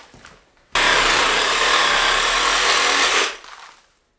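A saw cuts a deer carcass in half during butchering, a loud, steady rasping drone lasting a few seconds, beginning abruptly after quiet rustling and cutting off before fading handling noise.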